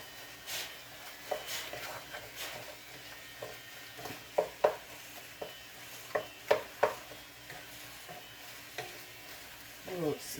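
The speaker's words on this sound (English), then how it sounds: "bell peppers, onions, and celery. Okay. Let's give this a stir." Bell peppers, onions and celery sizzle in a pan for goulash as a utensil stirs them, with a soft steady fry under a series of sharp scraping strokes, close and fairly quiet.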